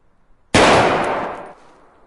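A single loud burst of video game gunfire, one sharp blast with a noisy roar that holds for about a second and then cuts off, heard alone.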